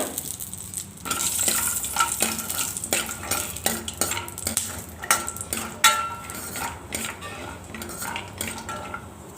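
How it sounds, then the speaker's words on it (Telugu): Almonds and cashews fry in melted ghee while a metal spoon stirs them, producing repeated scraping clinks against the pan over a soft sizzle. "నెయ్యి కరిగిన తర్వాత ఇందులో బాదం జీడిపప్పు వేసి వేయించుకోవాలి"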